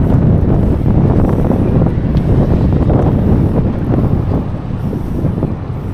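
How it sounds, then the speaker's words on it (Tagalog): Loud wind buffets the microphone, a continuous rumbling roar that stays strong the whole time. "Ang hangin."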